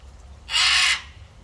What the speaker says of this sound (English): That there you can see squawking is Scarlet. She's out there on that tree there. She's my macaw